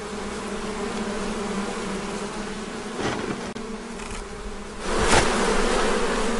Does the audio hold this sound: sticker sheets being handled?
no